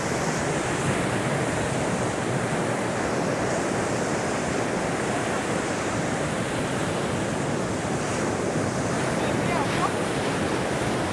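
Steady surf breaking on Divi Beach, Aruba, after a storm, a dense continuous wash of waves with wind noise on the microphone, loud and unbroken throughout with no clear voices.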